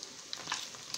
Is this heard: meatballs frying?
yes